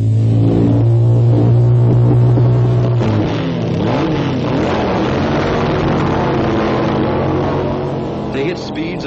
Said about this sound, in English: Motorcycle drag racing is another highly specialized form of competition.